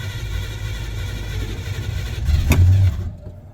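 A 1964 Chevrolet Bel Air engine being cranked with a sticking throttle, giving a steady low mechanical rumble over a running blower motor, with a louder surge near the end before it cuts off.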